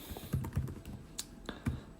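Someone types on a computer keyboard while programming, a handful of irregular key clicks, close and moderately loud, with no talk.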